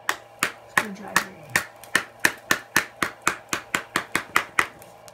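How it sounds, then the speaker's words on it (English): A screwdriver knocks in a steady run of sharp, evenly spaced taps while prying the glass off an old iPhone, close and fairly loud, with a brief low tonal scrape early on. "So this is where it's time for my handy dandy screwdriver."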